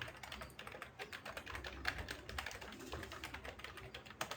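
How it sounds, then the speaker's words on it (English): Rapid keystrokes as a website address is typed on a computer keyboard, a quick uneven patter of soft, close clicks with no talking. "I will type it for you."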